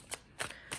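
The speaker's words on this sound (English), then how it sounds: "We're going to shuffle 2 more times." Tarot cards being shuffled by hand during a six-card spread reading, three quick riffling bursts spaced evenly apart, close and fairly quiet with no talking.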